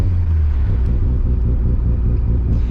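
A Mazda RX-7 rotary engine lugs at 2,000 RPM in second gear, producing a steady, deep, loud rumbling drone from inside the car with a rough, low pulsing texture and no talk.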